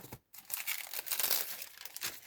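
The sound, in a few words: crinkling flexible plastic acetate sheet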